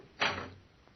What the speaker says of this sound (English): and shut the doors behind us